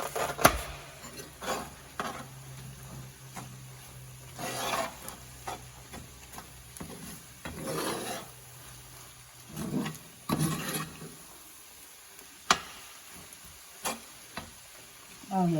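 An egg cooking with wild greens in a cast iron pan: a faint sizzle runs underneath, broken by intermittent scraping and stirring strokes of a utensil against the iron, with sharper knocks near the end.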